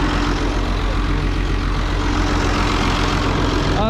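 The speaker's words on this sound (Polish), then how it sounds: "Jedzie pierwszy ciągnik." A tractor engine rumbles steadily at a corn harvest, a loud, continuous low drone with broadband noise and no talking.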